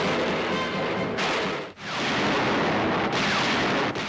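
Tank sound effects from the 1956 film Rodan: a loud, dense rumbling roar that surges continuously, with a couple of brief dips, and no voices.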